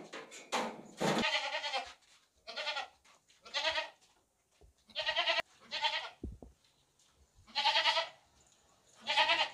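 A goat in heat bleats repeatedly, loud and close, in about eight separate wavering cries with short pauses between them.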